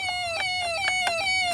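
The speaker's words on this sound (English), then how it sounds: "But wow, yeah, the siren sound is really bad." Siren tone from a 1980s Pac-Man mini tabletop arcade machine, a harsh electronic whine sweeping in repeated rising-falling cycles, loud and close, with faint clicking underneath.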